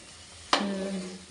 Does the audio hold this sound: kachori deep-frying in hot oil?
yes